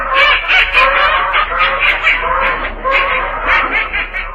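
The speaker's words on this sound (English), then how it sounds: "get a load of those ducks" A large flock of ducks quacks in a dense, continuous chorus, loud and close, with overlapping calls that never pause.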